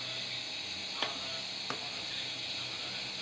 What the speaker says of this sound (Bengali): এই মশলাটা মনে করেন বেশি করে ভালো করে কষাই নেবেন।